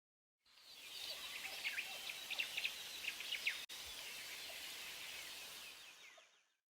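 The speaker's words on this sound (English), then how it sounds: "For the jungle ambient sounds," Dense jungle ambience used as a sound effect: many overlapping bird chirps, calls and insect trills at moderate distance, a steady busy chorus that swells slightly in the middle and runs continuously without any voices.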